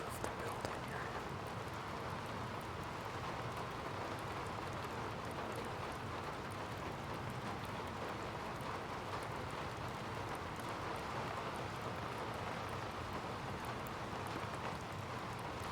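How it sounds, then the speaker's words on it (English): Steady rain from a storm drums on the roof of a building in the video game Skyrim, a constant soft hiss and patter that continues evenly throughout at low volume. "you're listening to the rain on the roof of the building you're in"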